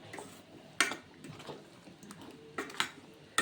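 Soaked bori being mixed with spice paste and coriander in a bowl, quiet squelching with several sharp clicks of a spoon or fingers against the bowl, close and faint.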